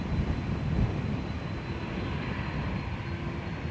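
An Aer Lingus airliner takes off from runway 10 right at Dublin Airport, heard as a steady, broad engine roar that holds at an even level and sits fairly distant throughout.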